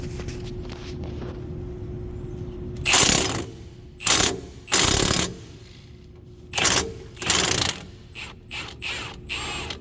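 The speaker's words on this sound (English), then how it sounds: "And then I will loosen it from the front side with the impact." Impact wrench loosening a rear strut bolt on a Lexus IS250, firing in several short, loud rattling bursts of roughly half a second each, separated by pauses and followed by a few quicker taps near the end.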